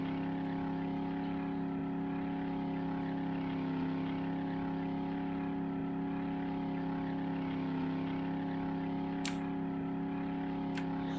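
A gyrocopter flies steadily through 7 Days to Die, its engine and propeller holding a continuous even drone with no break. A couple of faint clicks cut in near the end.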